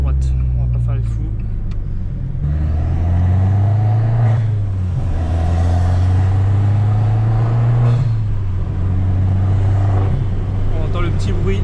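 An Abarth car engine drones steadily from inside the cabin while driving, a loud continuous low hum with a few shifts in pitch as the revs change, and people talking over it.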